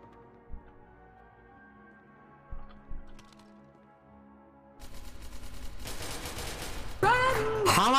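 Bursts of gunfire in SCP: Secret Laboratory, quiet clicks and scattered shots at first, then a loud, dense stretch of rapid shooting with ringing, whistling tones toward the end.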